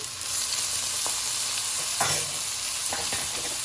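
Seasoning, vegetables and mushrooms for Jamaican pumpkin rice sizzle steadily in a pot with a constant frying hiss, broken by a few soft stirring scrapes and clinks.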